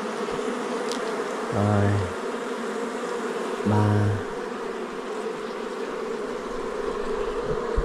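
Honey bees buzz around a very large wild honey bee nest packed with honey, a steady close hum throughout, with two short low droning bursts of an engine-like tone partway through and a brief spoken word.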